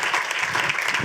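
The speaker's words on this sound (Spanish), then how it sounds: "un gran aplauso para la persona que va a estar guiando este conversatorio, Ana" Brief burst of audience applause at a short-film festival discussion, a dense wash of clapping in the room with no talk over it.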